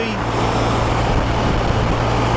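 A BMW R1200 RT motorcycle riding on the road, a steady close engine drone mixed with rushing wind noise, continuous for the whole short stretch.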